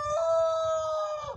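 A laying hen lets out one drawn-out, tonal call lasting just over a second, loud and near, with low rustling underneath.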